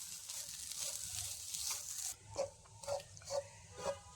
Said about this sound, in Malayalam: ഇനി ഇത് നമുക്ക് നല്ല തീയിലിട്ട് വറുത്തെടുക്കാം